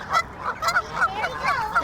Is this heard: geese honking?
yes